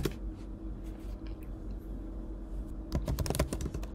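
Quick bursts of keystrokes as a password is typed on a computer keyboard, sparse clicks at first, then a dense run of taps near the end, close and alone.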